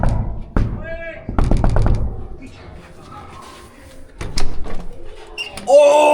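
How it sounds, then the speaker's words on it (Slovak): Someone raps a secret knock on a door, a quick, patterned burst of close, loud knocks, then another knock a few seconds later, with voices and bustle in between. "Tajné, klopanie."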